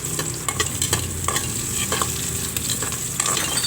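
Spices, crushed garlic, sliced onions and ginger sauté in a hot pan for a chicken tinola with saba bananas, giving a steady close sizzle broken by repeated scraping stirs of a spatula.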